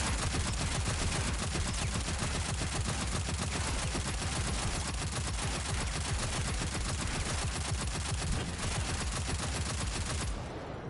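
Video game gunfire in a continuous, rapid machine-gun stream, loud and steady for about ten seconds before cutting off abruptly near the end.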